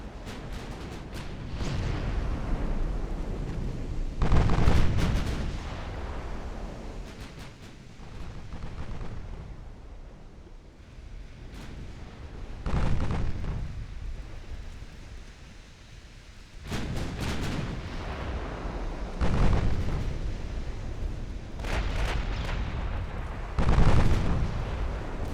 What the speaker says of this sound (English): So the big guns did hit.